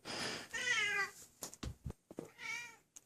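A cat meows twice in distinct, drawn-out cries, close and clear, separated by a few sharp bumps and handling noises between them, with no talking.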